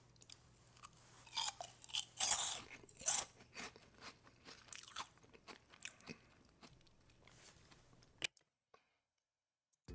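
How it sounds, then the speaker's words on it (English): Close-up crunching of an airy, soft crunchy snack, a series of crisp bites and chews in irregular bursts, loud at first then tapering to scattered faint crunches before near-silence at the end, no talking. "That was not the kind of crunch you would expect. These are very airy, very soft."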